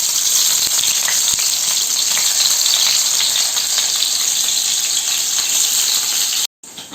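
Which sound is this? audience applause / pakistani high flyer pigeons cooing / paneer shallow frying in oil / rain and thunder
paneer shallow frying in oil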